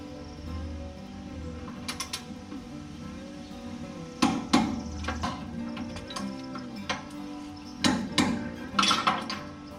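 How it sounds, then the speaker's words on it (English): A torque wrench tightens the pinch bolts on an upper control arm to 60 foot-pounds, giving a few quiet, sharp clicks and mechanical ratcheting bursts spaced through a low workshop hum, with no talking. "Now we're going to torque these two pinch bolts to 60 foot-pounds."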